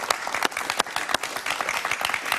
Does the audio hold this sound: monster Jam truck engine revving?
no